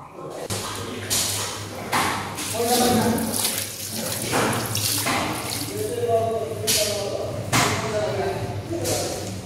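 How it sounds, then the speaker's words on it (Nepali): Boiled pig intestines are rinsed with water poured from a jar to wash off turmeric, giving close splashing and trickling with occasional thumps, under steady talking. "जुन बेसारहरू लागेको हुन्छ हो यो बेसारहरू मजाले पखाल्छौँ"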